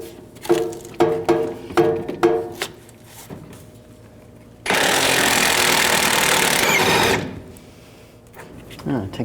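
Ratchet turning a 21mm socket to remove a rear shock bolt on a 1999-2007 Chevy Silverado 2500HD, several quick clicking bursts, then a long loud grinding stretch and a few more clicks at the end.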